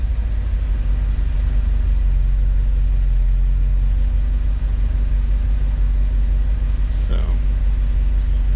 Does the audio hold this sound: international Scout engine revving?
yes